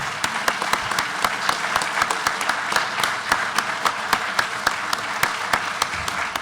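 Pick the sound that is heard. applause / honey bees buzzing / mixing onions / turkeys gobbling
applause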